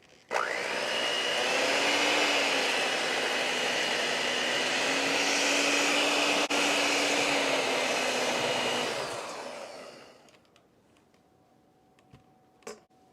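An electric mixer whirs steadily for about nine seconds while beating sugar for date nut pudding batter, then winds down and stops, followed by a few faint clicks.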